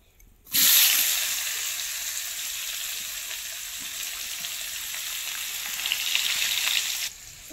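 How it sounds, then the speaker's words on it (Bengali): Chopped large onion hitting hot oil in a frying pan, a sudden loud sizzle that starts sharply and holds as a steady crackling hiss for several seconds before cutting off. "এখানে একটা বড় সাইজের পেঁয়াজ কেটে রেখেছি, তেলের মধ্যে দেব।"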